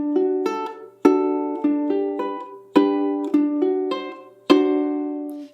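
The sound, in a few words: ukulele chords played short, staccato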